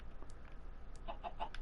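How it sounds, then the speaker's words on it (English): A Minecraft chicken clucks as it lays an egg in a flat, open game world, giving a few short, close clucks in quick succession over a quiet background. "I just heard a chicken pop out an egg."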